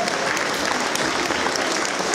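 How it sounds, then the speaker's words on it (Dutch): Audience applause at an indoor dog show for the sighthound group, a dense, steady clapping that fills the whole moment without a break. "En een geweldig applaus voor de rest."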